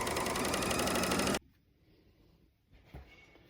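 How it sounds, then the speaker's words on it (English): A serger sews along a fabric edge, a loud dense mechanical whir that runs steadily and then cuts off abruptly, leaving a quiet room with a few faint handling clicks. "Serge along the edge, but do not cut off any extra."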